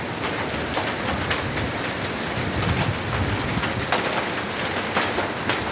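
Heavy rain hammers down in a continuous loud roar, with scattered sharper drops spattering on nearby surfaces.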